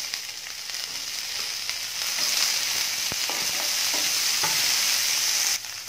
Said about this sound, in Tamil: இப்போ வெங்காயம் போட்டு வதக்கிடலாம்.